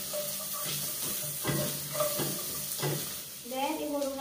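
Onion, garlic and ginger sautéing in a pan, a steady sizzle broken by several scraping stirs, with a brief burst of background voices near the end.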